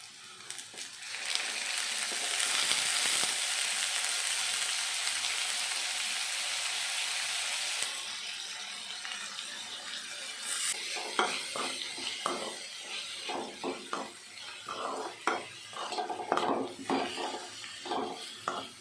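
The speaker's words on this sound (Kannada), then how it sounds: "ಈ ಬಾಳೆ ಹೂವೆಲ್ಲ ಎಣ್ಣೆಡಿ ಚೆನ್ನಾಗಿ ಫ್ರೈ ಆಗಬೇಕು" Chopped banana flower frying in hot oil in a pan: a loud continuous sizzle fills the first half, then fades as repeated scraping and stirring strokes of a spatula against the pan take over, with no talking.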